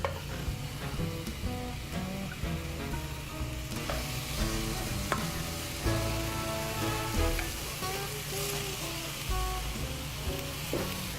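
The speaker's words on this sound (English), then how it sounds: "we got a little sizzle there" Chicken or eggplant sizzles in a hot skillet with a steady crackling fry and scattered pops and clinks throughout, fairly quiet and close, with no talk.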